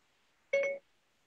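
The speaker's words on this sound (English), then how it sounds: "was my phone, it was like, "Hey Siri," but I didn't say "Hey Siri" anyway" Smartphone voice assistant Siri activating, a single short two-tone electronic chime in an otherwise quiet room.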